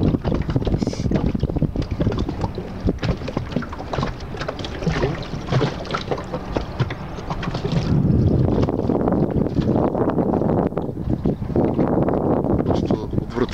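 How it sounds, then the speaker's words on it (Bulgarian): Extremely loud boat outboard motor running close by, a harsh continuous roar with wind buffeting the microphone and people talking over it. "Просто изключително шумен е този мотор."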